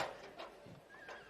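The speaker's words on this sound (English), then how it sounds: "Zane riding that little horse called Cat Swift." Horse running at a campdraft, carrying a rider working a steer in an Australian arena event; brief hoof sounds and a short whinny-like call over a busy, moderately loud background with no talk.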